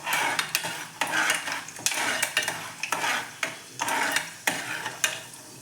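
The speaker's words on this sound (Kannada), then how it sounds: "ಸಾಸಿವೆ ಹಾಕೋತಾ ಇದ್ದೀನಿ" Mustard seeds sizzle steadily in oil while a utensil stirs and scrapes the pan in a regular rhythm, close by, with no talking.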